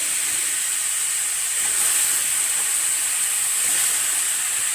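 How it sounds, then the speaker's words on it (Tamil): Cut raw plantain sizzling steadily in a pan of frying masala for valakkai varuval, a loud continuous bright hiss with no voices. "இதுக்கப்புறம் அந்த கட் பண்ணி வச்ச வாழைக்காயை போட்டுறேன்"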